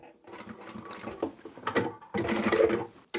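A sewing machine back-stitches a small fabric card wallet with a keychain, running in short close bursts that stop briefly, then resume louder and faster.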